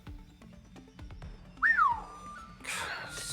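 Boothill from the game Honkai Star Rail whistles a sharp rising-and-falling note over light clicking sounds, followed by a steady held tone and a burst of breathy noise near the end.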